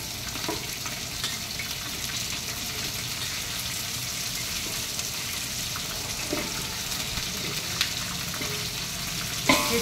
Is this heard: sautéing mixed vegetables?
yes